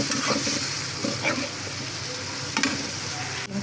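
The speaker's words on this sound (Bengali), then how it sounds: "মশলাটা ভালোভাবে কষানো হয়েছে, এখন দিয়ে দিচ্ছি ডিম," Rohu fish roe frying in a spiced masala and being stirred, a steady close sizzle with periodic scraping stirs of the spatula through the pan, no voices.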